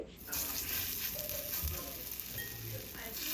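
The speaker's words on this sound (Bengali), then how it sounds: "বড়াগুলো আমার সুন্দর করে ভাজা হয়ে গেছে বাকিগুলোও ভেজে নেবো এইভাবে" Raw banana fritters frying in hot oil produce a continuous close sizzle, with a few soft stirring and scraping touches mixed in.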